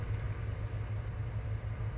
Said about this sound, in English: This tractor might be a little bit too big for this map